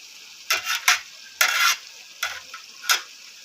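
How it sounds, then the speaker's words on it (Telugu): Spinach and coriander fry in a pan, heard as a few short, close bursts of scraping and hissing stirring separated by quiet gaps. "పాలకూర అనేది ఫ్రై అవుతుంది చూడండి"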